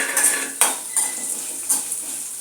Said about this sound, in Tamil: பாருங்கள், சின்ன வெங்காயம் ஒரு 10 வெங்காயம் சேர்த்து வதக்கிடலாம்.